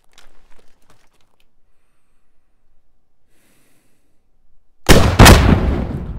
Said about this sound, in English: There's a secondary explosion